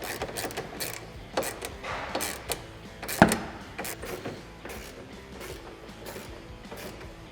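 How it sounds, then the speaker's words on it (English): Clamp hardware is tightened while a power flip windshield is mounted on a Kawasaki Teryx side-by-side, giving a series of close mechanical clicks and ratcheting ticks with one sharp louder snap midway. "Now we're just going to fully tighten our hardware here on our clamps."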